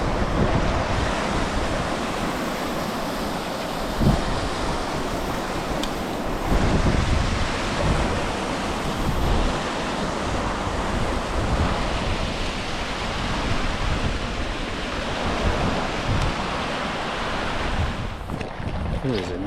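River rapids on a steelhead fishing trip, a steady broadband rush of flowing water with wind noise over the microphone, continuous and fairly loud throughout.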